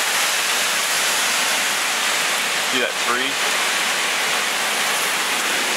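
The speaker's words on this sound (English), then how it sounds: "That's just rain density." Heavy storm rain pours down in a dense, steady hiss that fills the whole stretch, loud and close, with a brief spoken voice and a faint chirp partly buried in the downpour.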